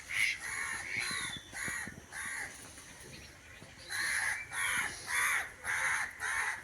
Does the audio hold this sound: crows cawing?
yes